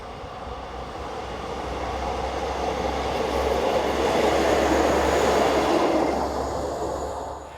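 A Class 842 diesel railcar departs Nezvisice station, its engine drone and rolling wheels building to a loud, close roar and then easing slightly as it moves away. Nobody talks.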